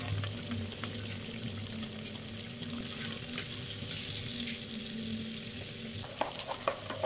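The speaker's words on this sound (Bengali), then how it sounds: "এবার এটাকে ভালো করে ভেজে নিতে হবে।" Taler bora, palm fruit fritters, deep fry in oil over a medium gas flame, giving a continuous close bubbling sizzle with occasional stirring clatter near the end.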